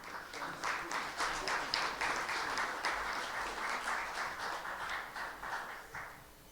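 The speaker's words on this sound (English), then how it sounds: "let's give Lou Correa and these panelists another round of applause" An audience at a housing affordability summit gives the panelists a round of applause, a steady wash of clapping from a mid-sized crowd lasting several seconds before fading out.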